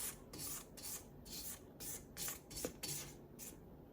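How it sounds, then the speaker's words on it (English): A spatula scraping the sides of a mixing bowl of cream cheese cookie dough, a quick series of soft rhythmic rasping strokes, close and fairly quiet. "Let's scrape down the sides."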